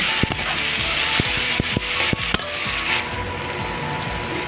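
Desi village-style chicken being sautéed with ginger garlic paste in a pan gives steady frying hiss and rough scraping stirs, with several sharp spoon knocks against the pan early on and no talking.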